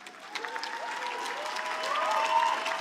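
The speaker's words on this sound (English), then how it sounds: "give your relatives, your family, your loved ones a standing ovation and a round of applause" Large graduation ceremony audience giving a standing ovation, a broad continuous applause that swells slightly toward the end, heard from a distance in a big hall with faint cheering mixed in.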